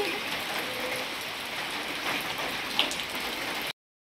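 Steady rain falls outdoors at a hillside temple near Guwahati, a continuous even hiss of drops on surfaces with no speech, ending abruptly.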